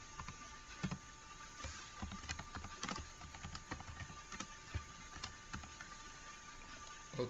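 Faint, irregular clicks of a computer keyboard as JavaScript code is typed, steady keystrokes with occasional sharper taps.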